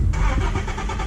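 A car engine rumbles nearby, a steady low drone with some revving, as a vehicle pulls away.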